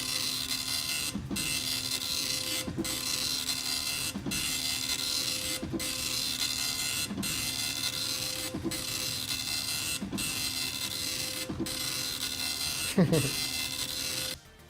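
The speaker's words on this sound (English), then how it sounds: "Dot matrix printer SFX." Dot matrix printer sound effect in a game jam setting: a steady mechanical buzzing print head runs continuously, punctuated by regular clunks roughly every second and a half as the paper advances, loud and close.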